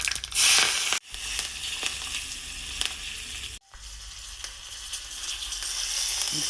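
Mustard seeds and curry leaves crackle and sizzle in hot oil for a Bhamin-style majjige huli tempering, a steady loud hiss broken by two brief pauses; no talking.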